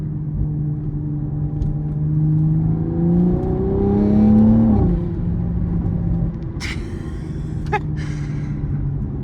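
A Toyota Supra's exhaust drones while driving, engine tone climbing steadily as it accelerates, then dropping sharply at a shift and settling into a steady cruise hum, with a few light clicks near the end.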